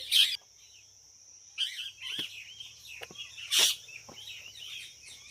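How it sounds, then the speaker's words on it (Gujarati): Sharp, shrill parrot squawks burst out a few times, loud and close, at a historic site, with quieter chirps and calls in between against a faint background hum. "પોપટ બોલે છે"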